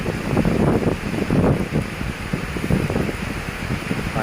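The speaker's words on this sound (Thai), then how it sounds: "ฝนเทมาอีกแล้วนะครับ" Heavy rain pours with gusting wind, a dense, loud, unbroken wash of noise that surges and eases in waves.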